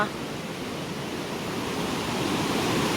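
Continuous broadband rush of fast-flowing river water over large boulders, loud and steady, slowly swelling slightly over a few seconds with no other distinct sounds.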